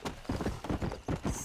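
Horse hooves clip-clop at a steady trot in the Xbox One game Red Dead Redemption, a close, even, rhythmic patter of repeated beats with no voices over it.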